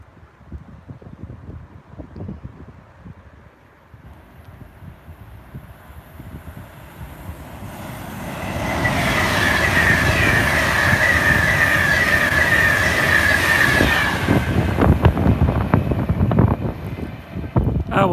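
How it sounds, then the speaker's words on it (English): A Pendolino passenger train passes a trackside spot, its roar swelling from a quiet rumble into a loud, sustained rush with a steady whine and wind buffeting the microphone. "Here's the Pendolino now."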